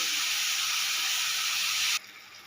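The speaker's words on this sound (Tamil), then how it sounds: "கொஞ்சம் தக்காளி நல்லா வதங்கி வரட்டும்" Tomatoes sautéing in a pan for a bitter gourd curry give a loud, steady sizzling hiss that cuts off abruptly near the end, close with no talk.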